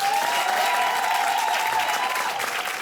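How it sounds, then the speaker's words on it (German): Audience applause following a poetry slam performance, steady and dense clapping filling the whole stretch without a break, close and fairly loud. "Applaus für Poetin."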